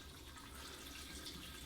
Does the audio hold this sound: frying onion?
no